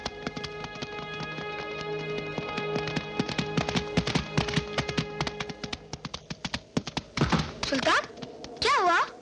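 Horse hooves clip-clop in a rapid, regular rhythm up close in a Bollywood film scene, growing more uneven toward the end, where a brief whinny-like cry rises over the steps.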